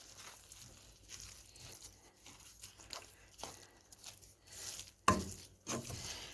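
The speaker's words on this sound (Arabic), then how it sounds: "هسه أبقى أحمس بيها، أحرك بيها على مود حتى يذوب السكر وتتكرمل" A wooden spoon scrapes and stirs sugar in a pan as it melts toward caramel for Iraqi carrot halwa, making soft irregular rasping and crackling strokes with a sharper louder scrape near the end.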